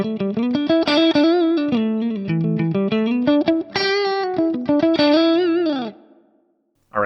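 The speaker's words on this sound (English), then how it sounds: "It's the ODS 100 clean with a factory rumble cab, a little bit of plate reverb, pretty standard kind of fat clean sound." Clean electric guitar through an Axe-Fx III ODS 100 clean amp model with a rumble cab and light plate reverb, playing a melodic phrase of chords and single notes with a chorus-like shimmer, ringing out before a brief final strum.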